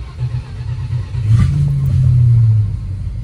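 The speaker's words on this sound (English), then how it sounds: "Cold start." A 1969 Dodge Charger with a broken distributor cold-starting, its engine catching into a deep, loud rumble that swells into a brief rev before settling, close up and with no talking.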